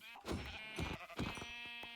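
Three short bleats from a sheep in Minecraft, the video game, each a quick wavering cry spaced about half a second apart, fairly clear over a faint steady background tone.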